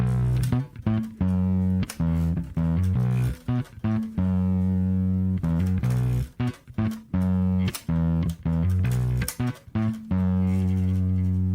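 Bass through a Behringer BDI21 V-Tone bass driver pedal with drive maxed, heavily overdriven and distorted, plays choppy repeated notes with abrupt stops and picking clicks, gritty and loud, no talking.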